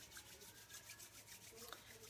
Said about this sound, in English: So let's rub our hands together